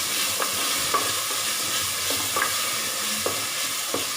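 Biryani masala for a pressure-cooker mutton biryani is stirred in a pan, with a spoon scraping in a loose rhythm of several close strokes over a constant frying sizzle.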